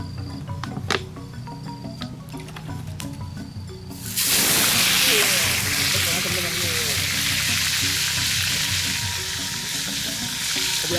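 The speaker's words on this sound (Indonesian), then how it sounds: "Kita mau goreng." Mujair fish dropped into hot oil, a sudden loud burst of sizzling after a few seconds of quieter kitchen clatter, then sustained close crackling and hissing that stays steady to the end.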